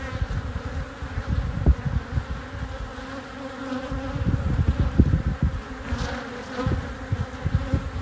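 Honeybees buzz steadily around a brood comb in a hive, a close, continuous drone with fluctuating wing hum and scattered louder passes near the listener.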